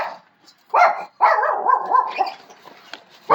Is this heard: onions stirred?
no